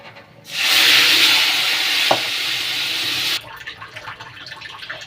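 Ground spice masala of cumin, coriander, chilli, turmeric and salt hits hot oil with whole garam masala, bursting into a loud, close, continuous hiss for about three seconds that then drops off abruptly to quieter clatter.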